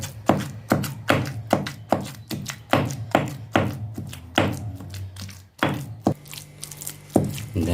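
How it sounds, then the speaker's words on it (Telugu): Onions are pounded by hand for gongura chutney, a steady run of dull, close thuds landing about twice a second, with a few scraping, clattering hits near the end. "ఈ మనం తీసుకున్న ఉల్లిపాయ ఉన్నాయి కదా, ఇవి కొంచెం దంచుదాం"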